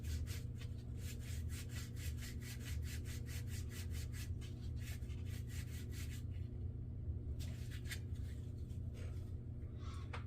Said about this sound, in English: Polish that up so it'll slide or spin inside that bushing really well.